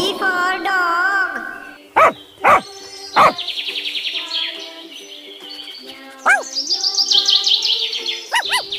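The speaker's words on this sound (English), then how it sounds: "D for dog." A dog lets out a few sharp, close yips in quick succession amid high whining and whimpering calls, with no talk.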